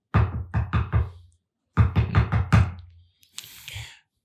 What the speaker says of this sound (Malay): Macam ketuk macam ni.